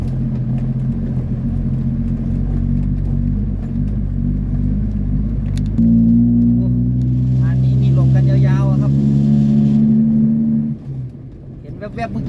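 Heavy trucks, including a water truck, rumble and drive in on a dusty Thai worksite. The low engine drone is loud and steady, with a rise in pitch partway through, and someone talks over it.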